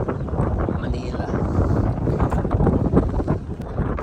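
Strong outdoor wind buffets the microphone in continuous gusty roaring while it blows a bride's gown, and voices can be heard talking underneath it.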